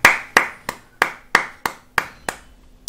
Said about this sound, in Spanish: Un aplauso para todos, chicos